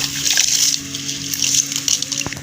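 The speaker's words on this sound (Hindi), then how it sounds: "अब इसके अंदर हम चावल जो है वो ऐड करेंगे।" Uncooked rice, two glasses of it, poured into a pot of four glasses of boiling water makes a close, bubbling and rushing watery sound with bursts of splashing, steady and fairly loud for a few seconds.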